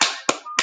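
Game clapping effect in Animal Jam: a few sharp, close claps in quick succession, crisp and isolated with brief decaying tails.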